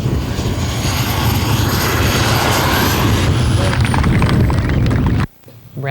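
A small propeller airplane lands in gusty wind at a public event, a loud, steady engine drone with rushing wind noise, cutting off abruptly near the end.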